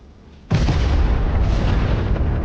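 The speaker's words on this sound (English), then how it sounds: "HIMARS was close by, the missiles going off." HIMARS missiles exploding set off a sudden loud boom that swells into a sustained, dense roar of blasts close by.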